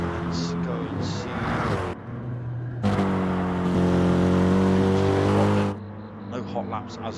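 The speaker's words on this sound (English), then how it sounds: "Cars do sound a bit blaring tonight." GT3 race car engines roar in a racing video game set at Circuit de Spa-Francorchamps, with loud, sustained revving and gear-shift pitch changes, one long blaring pass at full throttle, and talk over the engines.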